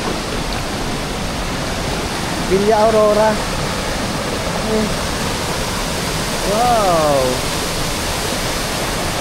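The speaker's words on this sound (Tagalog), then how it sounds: "Tapos running water siya doon," Running water at Gabaldon Falls, a steady broadband rush of the waterfall throughout, with a voice speaking briefly over it twice.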